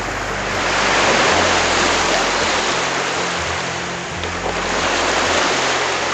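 Waves wash onto a beach in a steady, broad roar that swells and eases gently, with no voices.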